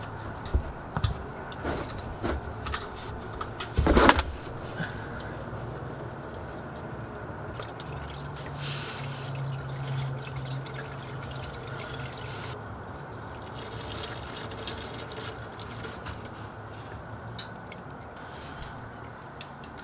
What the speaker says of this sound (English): you're ready to grab your drain pan and begin draining the oil